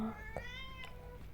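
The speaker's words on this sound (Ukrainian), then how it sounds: "Покормити Китю, китю кормлю." A cat meows in The Boiled One video game as it is fed, a single clear, close call over a low, steady ambient background.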